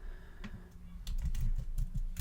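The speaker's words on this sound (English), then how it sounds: "going to start typing it in" Keys clatter on a computer keyboard as text is entered into a blog editor, with irregular taps quickening into a denser burst, close and fairly clear over a low background hum.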